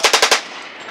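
A PM-63 Polish machine pistol fires a quick full-auto burst of four sharp, loud, close shots, followed by a short fading echo.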